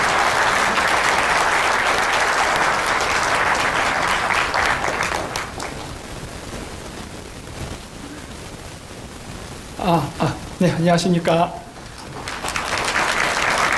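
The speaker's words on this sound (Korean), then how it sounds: "큰 박수로 환영해 주십시오" A lecture-hall audience of a hundred or more claps to welcome a lecturer. Loud sustained applause fades to quiet, a man briefly greets the room, then another burst of clapping rises at the end.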